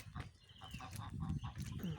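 Geese on a farm give soft honking calls in a quick series of short cackles, fairly distant and faint against outdoor background in rainy spring weather.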